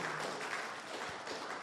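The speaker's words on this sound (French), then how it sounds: "let's give the Lord a clap" A church congregation claps for the Lord during a bilingual service, giving soft, continuous applause that sounds fairly distant and low in level.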